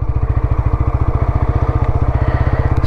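A 2024 TVS Apache RTR 160 4V with dual ABS creeps along in first gear at walking pace in urban mode, on the clutch alone with no throttle. Its engine gives a loud, close, rapid and even low thudding pulse throughout.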